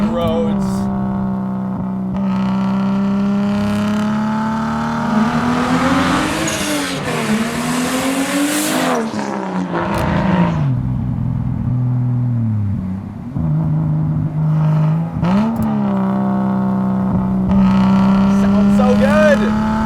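Nissan Skyline R34 GT-T sedan engine pulling through gears on an open road, a steady loud drone rising and falling in pitch with revs, with people talking intermittently over it.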